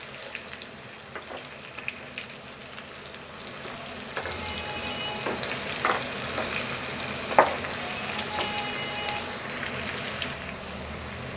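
Boiled eggs frying in oil in a pan for an Indian potato and egg curry, with a steady soft sizzle, occasional stirring clinks and scrapes and a brief louder knock, close and alone with no talk.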